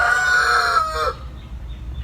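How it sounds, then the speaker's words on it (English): Cricket the rooster crows loudly and close, one long drawn-out cock-a-doodle-doo over a low rumbling background, trailing off into quiet hum. "And that is Cricket the rooster."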